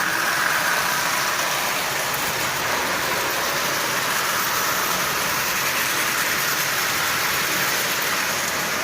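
A repaired Marx 994 toy train locomotive runs steadily at partial power, pulling a long string of 23 to 24 tin litho cars, making a dense, even whirring rumble that continues without pause and without voices.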